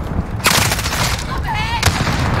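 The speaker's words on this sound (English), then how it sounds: "Allied cluster strike inbound." Explosions from a cluster strike in a Call of Duty online match land in quick succession amid steady gunfire, with sharp loud bursts and a continuous clatter of shots and game sounds.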